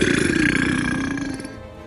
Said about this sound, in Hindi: अढ़ैया के मुंह से भयंकर डकार निकलती है